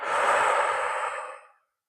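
A single long exhale during a back relaxation exercise, close and fairly loud, with a breathy rush that lasts about one and a half seconds and then fades to silence.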